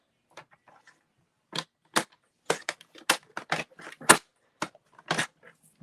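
Scissors snip across a 2.5-inch paper circle for a Halloween card, making several short, crisp cuts at an irregular pace, close and fairly quiet, with silent gaps between them.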